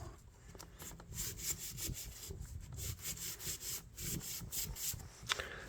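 Someone sands rust off the blade of a vintage L.L. Bean fish knife, making close, quiet, rhythmic back-and-forth rubbing strokes of varying length with no talking.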